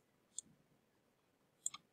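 A couple of faint, isolated key clicks, the first alone and then a quick pair a second later, over a quiet room.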